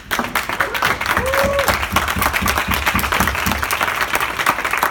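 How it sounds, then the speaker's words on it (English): Audience applause following a design talk presentation, a steady broadband patter of clapping lasting throughout, with voices and a brief vocal sound mixed in. "Let's first clap for this presentation."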